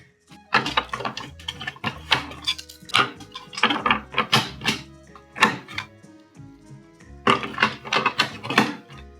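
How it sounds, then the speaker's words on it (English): Batteries being pushed into the compartment of a backlit device, giving a run of close, sharp plastic clicks and clacks in irregular bursts with short pauses between, no talking. "I'm guessing these batteries have to go in here."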